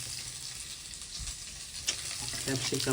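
Paneer heats in a hot pan with a steady, close frying sizzle, broken near the end by a few louder crackles and stirring scrapes.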